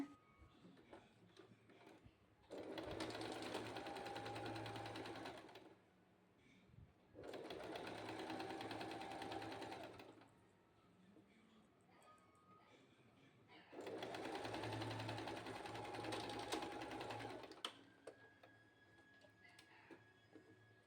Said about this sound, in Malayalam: നെക്കും ആം ഹോളിൻ്റെ ഭാഗവും സ്റ്റിച്ച് ചെയ്തെടുക്കാം